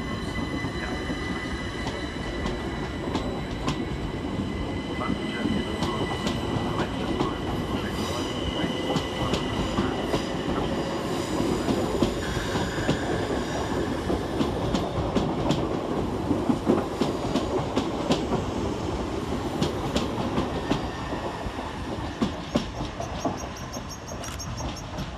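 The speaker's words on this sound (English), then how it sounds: "Getting ready to depart is 377107 and 377164, with the slightly delayed 1605 Southern service" Two coupled Class 377 Southern electric units pull out of Eastbourne station. A steady, loud rumble carries rhythmic wheel clicks over the rail joints and faint high squeals from the wheels, continuing throughout.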